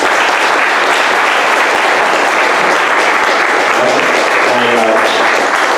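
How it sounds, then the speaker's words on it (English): Applause from the audience at an Ethereum developers meetup in San Francisco, a sustained wash of many hands clapping loudly, with a few voices murmuring faintly toward the end. "Can we give Sergey a round of applause?"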